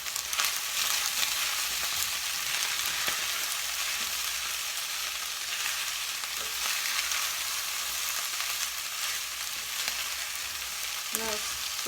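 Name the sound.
stir-frying vegetable fried rice in a pan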